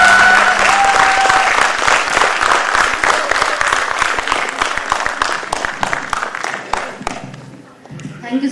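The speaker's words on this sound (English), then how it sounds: "please give her a big round of applause." Loud, sustained applause from a large crowd, dense clapping that slowly thins and fades toward the end.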